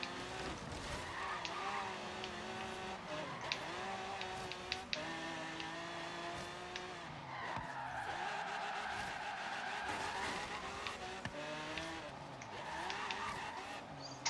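Car tyres skidding and squealing as a Lamborghini slides around in Forza Horizon 3, a steady wavering screech over loud engine drone, with short bumps and knocks scattered throughout.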